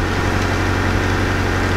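A BMW 330i four-cylinder engine idles with a steady low hum and a faint rhythmic throb, close and even, with nobody speaking.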